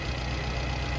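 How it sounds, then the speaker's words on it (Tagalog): Suzuki APV engine idling with a steady, dense mechanical hum and low rumble, close up and unbroken; the air-con compressor clicking cannot be picked out over the idle. "Antayin nyo lumagitik yung compressor."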